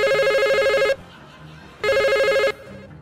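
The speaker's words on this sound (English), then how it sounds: "Oh, come on. Pick up the phone." Telephone ringing in two long electronic bursts with a pause between, loud and close, with faint background sound during the gap.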